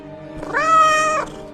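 A single loud, close cat meow rises and holds for nearly a second before tailing off, clear and alone with no talking.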